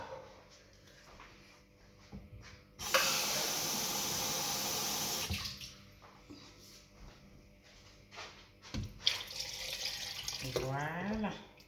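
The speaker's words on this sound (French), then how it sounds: "je rajoute une grande quantité d'eau" Tap water pours in a loud, steady rush for a couple of seconds into a kitchen vessel, then stops; softer clatter and brief splashes follow, with a rising filling tone near the end.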